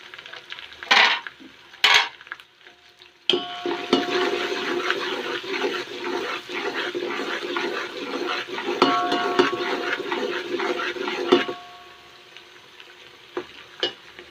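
Garlic and chili paste sizzles and fries in a hot pan for curry, a steady crackling hiss between a few sharp clinks of utensil against cookware.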